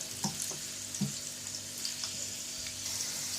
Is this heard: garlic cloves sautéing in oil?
yes